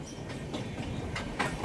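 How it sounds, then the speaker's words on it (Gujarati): A train rolls past on the railway tracks, heard from nearby while waiting at a crossing on a tractor journey, giving a soft, continuous rumble with rhythmic wheel clatter. "આ ટ્રેન જાય તો પછી હાલીએ."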